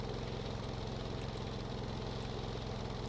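Propeller aircraft engine in the game Stormworks droning steadily at a low, even pitch for the whole stretch, a continuous mechanical hum with slight vibration and no talking.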